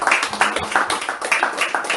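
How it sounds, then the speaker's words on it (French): A church congregation clapping in steady rhythmic beats, fairly loud and close, with voices mixed in. "Applaudissons encore pour le Seigneur"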